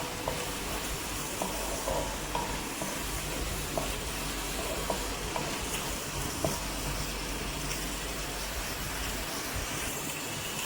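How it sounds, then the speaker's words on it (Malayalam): Cooked vegetable pieces are stirred into simmering curry paste for Onam kootu curry, giving a steady sizzle with soft scraping and occasional light clicks of a spoon, continuous and close with no talk. "അരപ്പ് വെന്ത് കഴിയുമ്പോഴത്തേക്കും നമുക്ക് വേവിച്ച് വെച്ച കഷ്ണങ്ങളെല്ലാം കൂടി ഇട്ട് കൊടുക്കാം."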